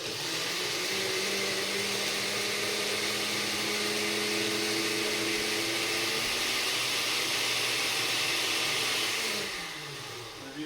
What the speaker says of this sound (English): We're going to shake the blender to get the air bubbles out, and then we're going to turn it back on.